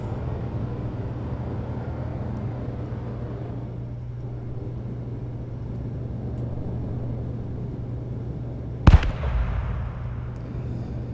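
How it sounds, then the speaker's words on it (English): A ship descending toward Calliope in the Star Citizen video game hums steadily until one sudden, sharp sonic boom cracks out, followed by a brief rumbling tail. "Sonic booms. Interesting."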